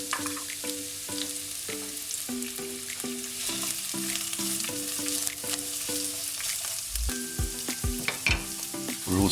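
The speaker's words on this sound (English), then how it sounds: "we're going to lightly fry off 2 chopped onions" Two chopped onions lightly frying in oil in a wok for chicken dopiaza, an even close sizzle under a rhythmic run of tapping and clinking stirs, a few heavier scrapes near the end, no talking.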